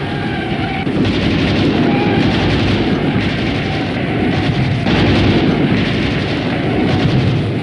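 Sustained battlefield gunfire and rumbling blasts near an ammunition position, a dense, continuous roar of shots and booms with no clear gaps, loud and close throughout.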